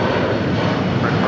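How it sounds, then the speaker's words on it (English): A United Airlines Boeing 757-300 on its takeoff roll at LAX, a broad continuous jet roar that stays loud and steady throughout, heard from the airport. "This is United Airlines 1069 taking off to Chicago on a 757-300."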